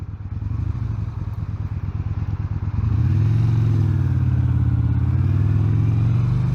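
Yamaha XVS 950 Bolt V-twin engine while riding, a loud throbbing low rumble with a pulsing beat that swells after a few seconds as the engine pulls harder, with the rising and falling pitch held steady and close.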